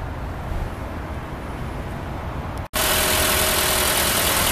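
A Toyota Camry with a VVTi engine idles in a steady, even hum that cuts out briefly partway through, then returns louder and brighter, as if heard closer to the engine bay.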